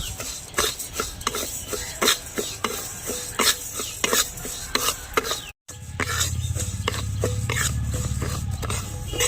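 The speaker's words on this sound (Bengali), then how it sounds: "ডালটাকে ভালো করে ভেজে নেব।" Sona moong dal roasting in a little oil in a pan, stirred with quick, rhythmic scraping and rattling strokes over a low hiss, close up with a brief silent break midway.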